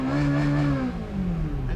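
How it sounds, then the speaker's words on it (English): A Ferrari's exhaust revs in a loud, close, continuous engine roar that holds steady, dips slightly, then climbs again over under two seconds, with no voices. "others simply spend a lot of money just for the sound coming from the exhaust pipe."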